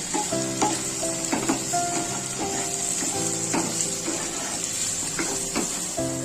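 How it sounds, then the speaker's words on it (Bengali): Chickpeas frying with spice masala, cumin and turmeric in a pan, a continuous bright sizzle with repeated spoon scrapes and stirring clinks, and a faint ringing tone in the background, no talk. "মশলাটা ছোলার সঙ্গে মিক্স করে আমি 5 থেকে 7 মিনিট কষিয়ে নেব"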